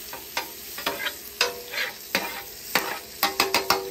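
Butter and pork fat sizzle on a hot griddle while a spatula stirs and scrapes, giving repeated sharp scraping strokes over a steady hiss, close and fairly loud, with no talking.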